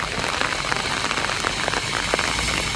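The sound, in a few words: heavy rain falling in Virudhunagar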